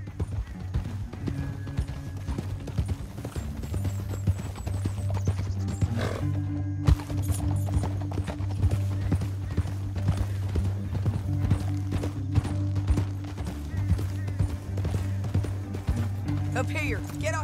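Rapid clip-clop of several horses galloping through a canyon in Red Dead Redemption, a dense pounding rhythm over a loud music score, with voices talking at moments.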